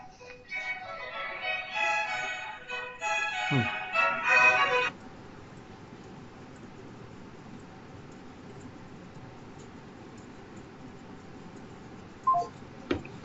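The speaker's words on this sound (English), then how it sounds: "Turn that ringtone down." A phone ringtone plays a bright, repeating electronic melody for a few seconds, then cuts off abruptly, leaving quiet room noise and a couple of faint beeps.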